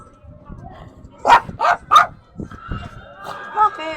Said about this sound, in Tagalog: doon pala yung malaking aso